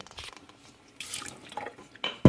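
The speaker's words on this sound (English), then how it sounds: "again, let's put water in it" Water splashes and trickles into a bowl of homemade butter being worked with a wooden spoon, in two short pours close by, with quieter scraping between them.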